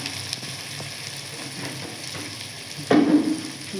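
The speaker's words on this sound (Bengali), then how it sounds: "এর মধ্যে ভাজছি ভালো করে" Onion and ginger fry in a home kitchen pan with a soft, quiet sizzle that swells briefly near the end as something is stirred or added.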